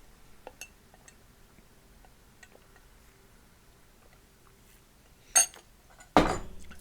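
Cutlery and dishes clink faintly and sparsely during a meal, with a couple of louder sharp clatters near the end; otherwise quiet, no talk.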